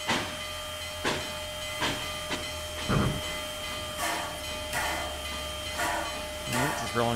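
A steam locomotive in the Trainz railway simulator rolls gently into a station, with a steady hiss and clanking, plus periodic bursts of steam puffs and metallic knocks at a moderate distance.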